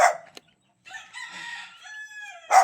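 A rooster crows once nearby, a long, rising and falling call, with short bursts of other noise just before and after.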